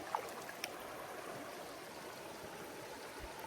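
Clean water sloshing in a gold pan at an abandoned mine, a steady, even wash of close water noise with a couple of small clicks near the start.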